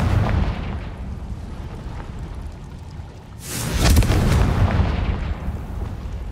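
Confringo explosive spell blasting in the Hogwarts Legacy video game: a sustained rumbling roar that swells into a loud, broad burst midway through, then rolls on with heavy low booms and crackle, no voices.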